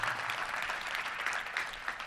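A luncheon crowd at the Little Rock Touchdown Club claps in a dense, steady wash of applause that holds at an even level throughout.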